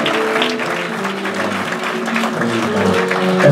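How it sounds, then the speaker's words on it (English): A church congregation claps during a Sunday service, dense sustained applause from many hands with some tonal music or voices underneath, loud and close and continuing for the whole stretch. "give God a hand clap of praise"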